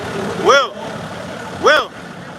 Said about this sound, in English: wait for the truck. The truck. You can't hear.